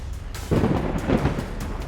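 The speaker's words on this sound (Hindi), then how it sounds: "बाहर बिजली कड़की" A sudden crack of thunder in a horror story breaks in about half a second, swelling into a loud, deep rumble that rolls on and fades slowly, with no voices.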